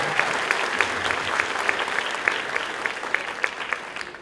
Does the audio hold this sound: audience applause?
yes